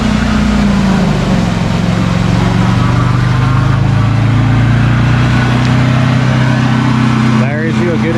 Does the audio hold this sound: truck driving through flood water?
yes